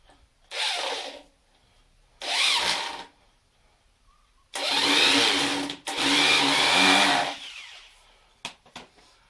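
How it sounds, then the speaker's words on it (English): A power drill runs in several bursts, two short then two longer, revving and straining as a screw drives in, close and loud. "Take our handy dandy drill."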